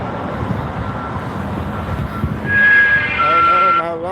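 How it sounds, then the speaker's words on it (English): A phone alarm sounds outdoors during a walk to work in the French Quarter, a bright, steady electronic tone that starts sharply partway through over traffic and wind noise. A person talks before it begins. "my alarm popped on"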